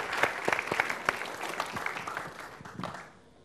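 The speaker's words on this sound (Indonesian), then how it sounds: "tepuk tangan untuk Adriano" A live studio crowd at a stand-up comedy battle claps for a comedian, a moderate burst of overlapping hand claps that gradually thins out and fades near the end.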